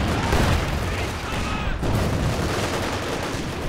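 Mortar shells land in a Company of Heroes 2 two-versus-two match, a continuous rumble of explosions and battle noise, with a commentator's voice heard over it.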